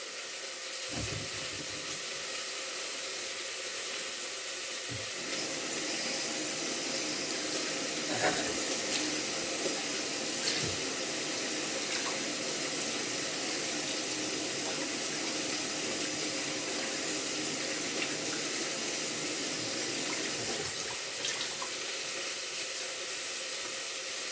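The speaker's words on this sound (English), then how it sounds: "Let me just clean that board off." Tap water runs steadily into a kitchen sink while a cutting board and knife are rinsed, a constant close hiss with occasional soft knocks and splashes as items are handled, no voices.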